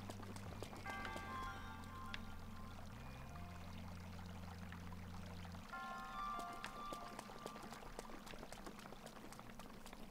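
Water flows steadily inside a shrine in The Legend of Zelda: Breath of the Wild, a faint continuous pouring rush beneath sustained low game-music tones.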